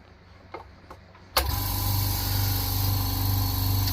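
A compressor with a 1/4 BSP outlet reduced to a 1/8 BSP airbrush fitting switches on after a couple of faint clicks. It then runs as a loud, steady hum that holds until the end.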